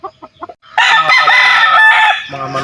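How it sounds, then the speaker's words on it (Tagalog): A rooster crows one long, loud, close call, preceded by a few short clucks from chickens and followed by more clucking, in a Filipino backyard flock of gamefowl. "Mga manok pa ng mga boss"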